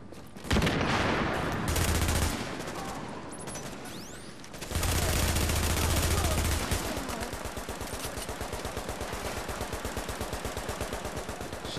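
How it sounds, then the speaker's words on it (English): Gunfire in the video game The Division: dense fusillades and rapid machine-gun bursts rattle almost without pause, loud and close, with a steady automatic-fire rhythm in the second half. "they're gonna think I'm shooting at them"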